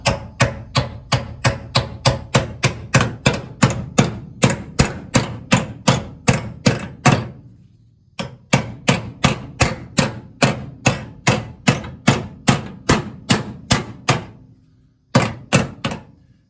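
A heavy hammer pounds the steel body of a 1968 Firebird convertible in long runs of loud, evenly spaced metallic thuds, with two brief pauses before the strikes resume.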